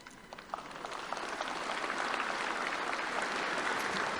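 Audience applause at a political gathering in Mauritius, steady dense clapping that builds within the first second and holds loud and even throughout, with no voices over it.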